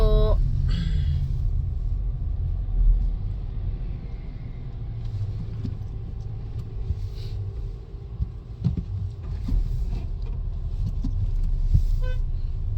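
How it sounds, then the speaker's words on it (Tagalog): Night car traffic on a Seville city street, heard from inside a car: a steady low rumble of engines and tyres, with a brief horn toot near the start and occasional passing vehicles. "Na traffic na tayo."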